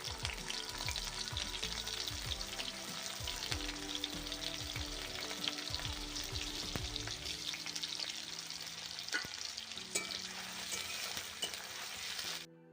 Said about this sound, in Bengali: কড়ার মধ্যে আর একটু বেশ পরিমাণ তেল দিয়েছি দিয়ে শুকনো লঙ্কাগুলো ফোড়ন দিয়ে দেব